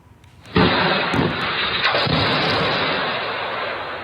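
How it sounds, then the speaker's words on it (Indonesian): Hezbollah rocket blast over Kiryat Shmona, Israel, at night: a sudden loud boom followed by a sustained, roaring broadband rumble that lingers at steady level for several seconds, with no voices. "Ledakan dasar terjadi di wilayah Kiryat Shmona pada malam hari."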